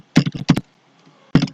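Keys clatter on a computer keyboard while numbers are entered in accounting software: a quick cluster of close, crisp clicks, a brief pause, then another short burst.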